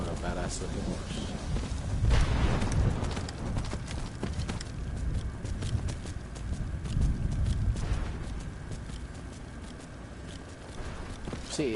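Hooves of the horse Arvak clip-clopping in Skyrim, a steady rhythmic trot running throughout with heavier thuds, mixed with game ambience and a voice talking over it.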